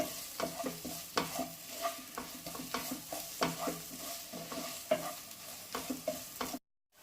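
A spoon stirs spice masala in a hot frying pan for paneer kofta, making quiet scraping strokes at a steady rhythm over a soft sizzle, with no talking, before stopping abruptly.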